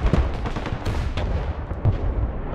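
A TOW missile strikes a T-90 tank in the video game Broken Arrow, a loud, close blast amid a dense run of booming impacts and rumbling explosions with no talk over it.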